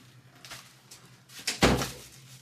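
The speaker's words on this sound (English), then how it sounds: "let me close the door." A door in a home shuts with a soft rustle and creak, then a firm thud, heard close up with no talking.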